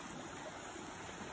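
River water flowing inside a cave, a steady broadband rush with no pauses, moderately quiet and continuous.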